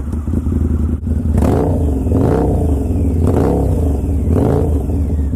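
A 2018 Harley-Davidson Night Rod Custom with a stage 1 setup and Vance & Hines 2-into-1 exhaust revs on a dyno, its loud, deep engine note swelling in several repeated throttle blips over a steady idle.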